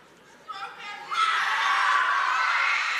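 A home crowd shouts and cheers at a boys' high school basketball game in a gym, building from scattered yells to a loud, sustained roar of mixed voices and children's shouting.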